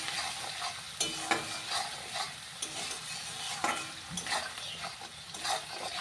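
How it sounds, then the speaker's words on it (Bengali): Spice masala fries in a pan with salt and a little sugar, a steady close sizzle broken by repeated scraping stirs of a spoon against the pan, with no talk. "এখন এটাকে আমি সুন্দর করে মশলাটাকে ভেজে নেব"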